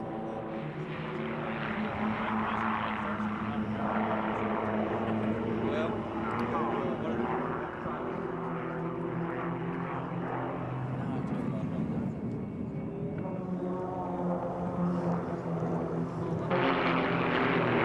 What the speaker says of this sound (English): these 4 tiny extra 300s in the very capable hands of the Royal Jordanian Falcons